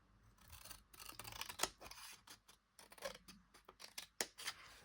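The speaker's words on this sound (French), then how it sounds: "je viens couper sur toute la longueur ici" Scissors cut along the full length of a sheet of craft paper in a series of crisp, close snips and rustling slides, quiet and alone with no talking.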